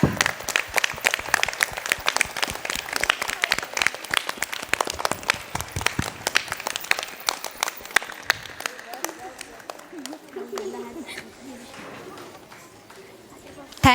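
Audience at a school annual day function applauds after a lamp lighting ceremony, a loud run of dense clapping that thins out and fades into quieter room sound and talk near the end.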